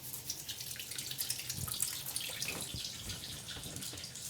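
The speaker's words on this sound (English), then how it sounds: "I'm going to wet my hands" Tap water running over hands at a kitchen sink while making gluten-free cheese and garlic bagels, a steady soft splashing and trickling stream heard close, with no talking.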